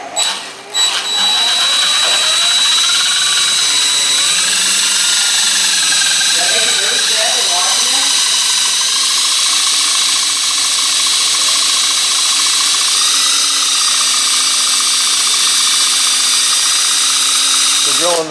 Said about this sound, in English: drilling the 2 holes for the mounting bracket